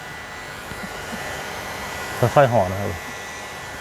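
A cordless battery-powered hair clipper trims hair during an at-home high-top haircut, giving off a steady, close motor buzz for the whole stretch while someone speaks briefly over it.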